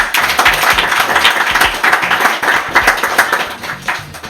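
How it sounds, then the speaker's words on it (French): Audience applause at a live magic show as two spectators are invited up as volunteers: dense, steady clapping from a crowd lasting several seconds at full strength, with no talking over it. "S'il vous plaît, applaudissements."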